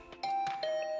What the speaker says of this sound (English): I'll ring the bell just in case.